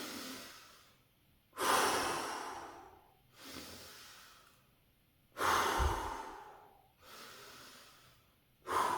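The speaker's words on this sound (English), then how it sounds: "Five more breaths." Deep breathing exercise done before a cold shower, with slow, loud inhales and long sighing exhales repeating in a steady rhythm, close to the mic and with no talking.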